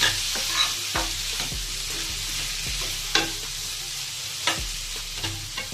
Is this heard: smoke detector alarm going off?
no